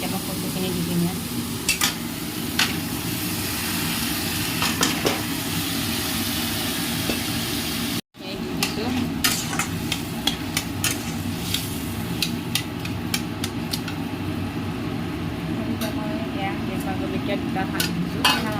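Small tomatoes and taro fry in a pan, giving a steady sizzle over the whole stretch, with scattered scrapes and taps of a stirring utensil and a brief dropout midway.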